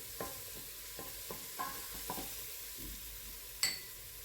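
Onion sizzling in a hot pot for a vegetable and shrimp soup, a quiet steady hiss under a series of light utensil taps and stirs, ending with one louder metallic clink; no voices.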